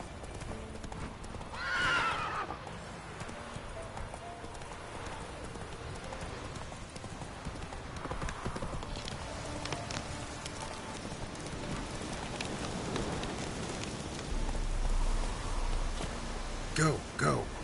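Roach, a horse in The Witcher 3: Wild Hunt video game, gallops with steady clip-clopping hooves and whinnies loudly near the start, along with scattered clinks and a heavier rumble toward the end.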